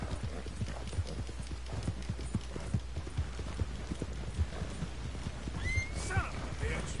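A horse gallops in the video game Red Dead Redemption 2, rapid clip-clop hoofbeats in a steady run, with a whinny near the end and a person talking faintly in the background.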